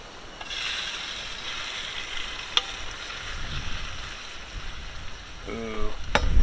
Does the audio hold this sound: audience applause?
no